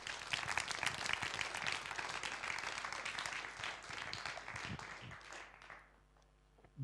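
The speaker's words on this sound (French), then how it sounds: "Applaudissons-les très fort." An audience at a teaching-innovation prize ceremony claps for the laureates in a sustained, fairly distant round of applause that thins out and dies away near the end.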